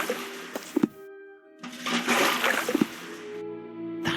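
Water splashing and sloshing onto an unconscious man to revive him, a few short wet bursts separated by quiet gaps with a steady tonal hum underneath, fairly close.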